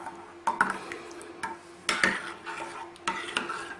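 A spoon stirring a tablespoon of strawberry coulis into boiling sugar syrup in a pot, with several distinct clinks and scrapes of the utensil against the pan, close and fairly quiet, no talk.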